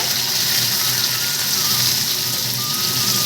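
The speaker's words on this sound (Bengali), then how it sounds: "পেঁয়াজটাকে আমি দিয়ে দেবো তেলের মধ্যে" Onion hissing and sizzling in hot oil, a steady close crackle filling the whole stretch with no pauses.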